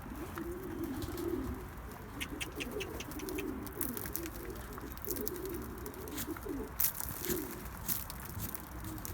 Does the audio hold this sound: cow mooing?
no